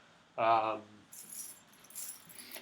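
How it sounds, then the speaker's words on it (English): A bunch of keys jingles in two short, light metallic rattles, heard close and fairly faint after a brief spoken word. "Here are some keys."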